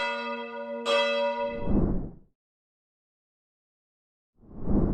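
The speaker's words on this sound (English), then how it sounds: "the faint chime of church bells may be heard ringing in her chapel at night" A church bell rings out with long, ringing tones, followed by two deep, resonant strikes separated by a pause of silence.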